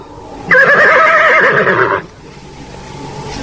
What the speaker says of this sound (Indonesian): Mendadak, Rakuti menarik tali kekang kudanya